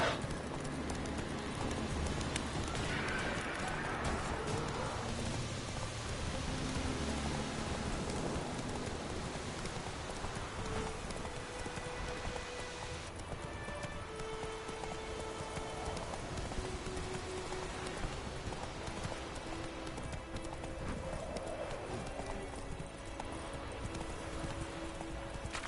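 Roach the horse clip-clops in The Witcher 3, with steady hoofbeats under dense game ambience and music and no clear speech.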